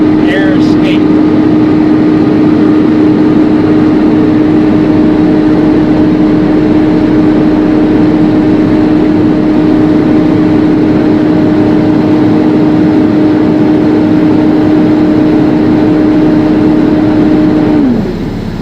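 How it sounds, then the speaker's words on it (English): A truck engine revs steadily during a pre-trip inspection to build air pressure toward the governor cutout, a loud sustained drone with a steady tone that drops off abruptly at the end. "Now I'm building my air pressure between 120 and 140 psi to the governor cutout. So you're just going to rev it up until you hear the air escape."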